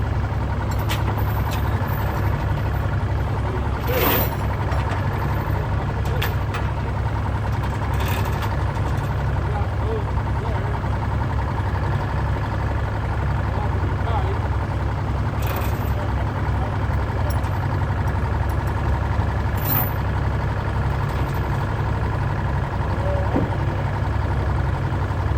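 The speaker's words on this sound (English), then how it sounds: "My brother decides the best way to do this is to pull it with a dozer" A bulldozer pulls an old Insley dragline, its low engine droning steadily throughout with faint clanks and knocks, heard from close by with no talking.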